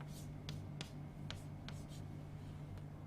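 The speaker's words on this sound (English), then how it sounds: "I will just draw this particular diagram there." A diagram being drawn on a board: faint, quick scratchy strokes in short separate marks over a steady low hum in a quiet room.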